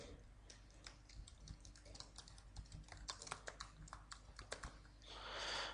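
Fingers type an article on a computer keyboard, a quiet, steady stream of irregular clicks and key taps close by, ending in a soft rush of noise.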